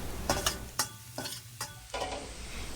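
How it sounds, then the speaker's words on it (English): Ginger stirred in hot oil in a pan, with a steady low sizzle under a series of sharp, close scrapes of the utensil, about six strokes at uneven intervals, with no talking. "When the oil warms up, add ginger and stir for 1 minute until fragrant."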